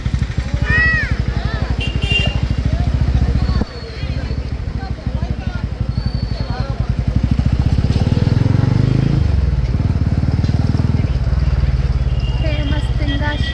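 Motorcycle engine droning steadily on a night ride near Tenkasi temple in Tamil Nadu, loud and close throughout with a swell in revs midway, voices talking over the ride.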